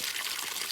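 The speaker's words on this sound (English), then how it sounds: "look at this spring where we're getting water" Spring water pours steadily into a pot on a trail, a brief continuous gushing splash, close and even, with no voices.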